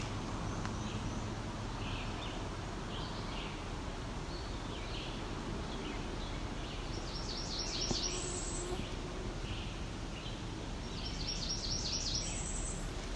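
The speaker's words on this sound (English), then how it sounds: "it does sound close to a cerulean warbler" A possible cerulean warbler sings thin, buzzy rising phrases, repeated twice at moderate distance, over steady soft outdoor background noise in northern woodland near the top of its range.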